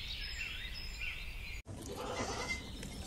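A domestic goat bleats in a drawn-out, wavering cry, then after a brief break a second rougher, fainter call follows, with no talking over it.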